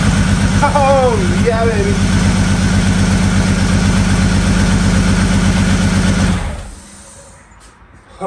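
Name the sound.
Mk2 Jetta VR6 swapped engine running after first start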